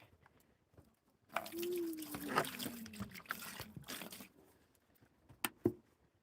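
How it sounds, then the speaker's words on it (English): Water swishes and sloshes for a few seconds, then quiets, followed by a couple of sharp knocks. "Give a little bit of a swish with the fresh water."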